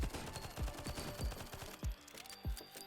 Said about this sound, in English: Just endless spam for this SMG.